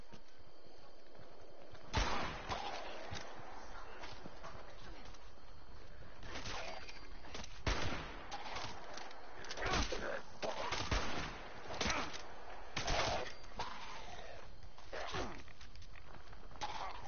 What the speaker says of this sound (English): I accidentally shot you, my bad.